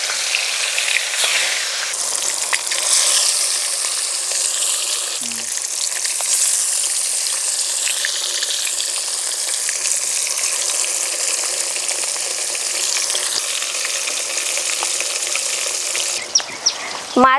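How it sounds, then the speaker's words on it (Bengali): Snakehead fish rubbed with salt and turmeric frying in smoking-hot oil, a loud, steady, bright sizzle that fills the whole stretch, with brief scrapes and a clatter at the end. "তেল থেকে ধোঁয়া ছাড়তে শুরু করেছে। নুন হলুদ মাখানো মাছ দিয়ে দেবো।"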